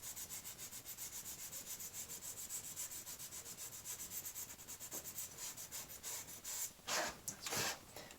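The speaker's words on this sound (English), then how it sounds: "just a bit of crit cloth and just lightly sand it off" A furnace flame sensor is lightly sanded with crit cloth, producing close, rhythmic scratchy rubbing strokes in a steady back-and-forth pattern that ends in a few louder, firmer swipes.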